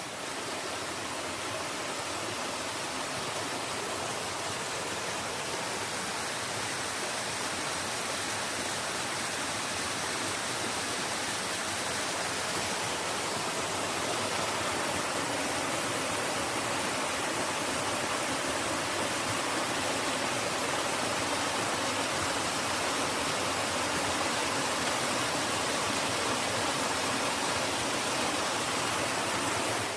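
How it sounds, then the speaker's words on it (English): Steady rushing water flows continuously, a broad constant roar of a creek or small cascade nearby on a trail at Sulphur Springs, Paris Mountain, with no voices. "I know you can hear the water running behind me."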